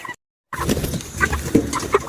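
Broiler chickens being loaded onto a tractor trailer cluck and squawk close by: several short, overlapping bursts after a brief moment of silence, fairly loud, with no talking.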